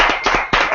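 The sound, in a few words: audience applause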